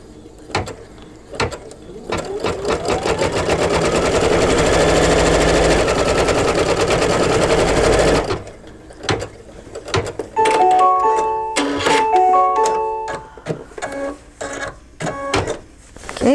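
An embroidery machine stitches an in-the-hoop mug rug, giving a loud, steady rapid needle chatter for several seconds, then stops and gives way to intermittent clicks and short tonal beeps.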